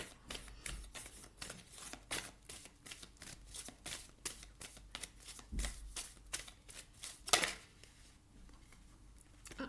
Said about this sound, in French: je vais commencer par une carte d'oracle du Sacred Destiny de Denise Linn